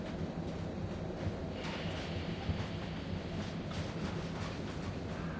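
A train runs in the video game Reverse 1999, heard as a faint, continuous low rumble with soft rattling and no voices.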